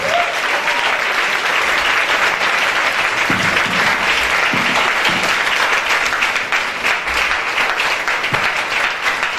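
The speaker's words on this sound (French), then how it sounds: "Acclame Jésus très fort." A church congregation claps and cheers loudly and steadily for the arriving pastor, a dense continuous wave of applause filling the room throughout.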